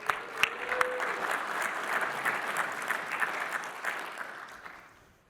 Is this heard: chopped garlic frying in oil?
no